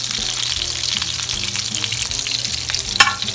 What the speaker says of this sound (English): Marinara bubbling and it's smelling better all the time.